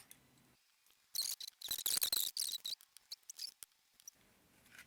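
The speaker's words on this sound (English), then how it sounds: "I'm going to kind of eyeball it and cut like I'm using a pattern to cut it out." Scissors cutting paper to make paper doll clothes, a close run of crisp snipping and rustling strokes in quick irregular bursts, fairly quiet in an otherwise still room.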